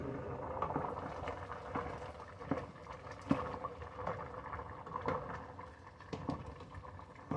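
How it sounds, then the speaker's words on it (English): A pot of potato and broccoli soup simmers quietly after the heat is lowered, giving faint, irregular bubbling and soft popping at close range. "let's turn that down to let it simmer now."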